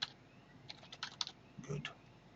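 Quick bursts of computer keyboard typing while renaming a sprite in Game Maker, soft clustered key clicks close by, with a faint voice murmuring briefly beneath them.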